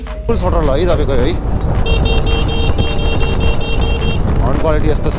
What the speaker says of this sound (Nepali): हर्न क्वालिटी यस्तो छ